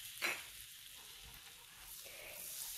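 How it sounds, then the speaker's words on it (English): Butter and all-purpose flour being whisked together in a pan into a roux, a gentle sizzle with light scraping strokes and a brief sharper clink near the start, no voices. "you're just going to whisk your flour mixture together. You're forming a roux."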